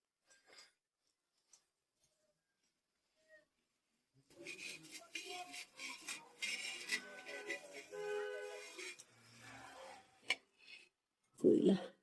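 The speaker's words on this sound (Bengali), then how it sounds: "একটা ঢাকনা দিয়ে নিব আমি।" A metal lid is set onto a cooking pot while making chitoi pitha, ending in a loud close clatter after a stretch of scraping and rustling kitchen noise.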